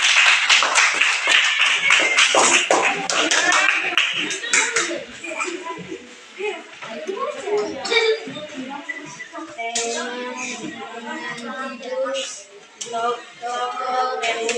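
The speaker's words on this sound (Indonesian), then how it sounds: "Tepukan." Applause and clapping from a crowd, dense rapid hand claps at first that thin into scattered claps mixed with children's voices and chatter.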